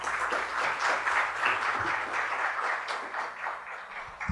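An audience at a health and disability lecture claps to welcome a doctor to the stage, a sustained, even patter of many hands that stays level throughout and fades slightly toward the close.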